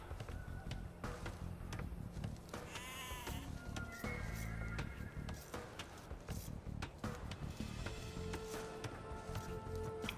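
Sheep in Age of Empires II bleat several times, wavering calls rising over a busy game soundscape of footsteps and clatter while a voice talks over the scene.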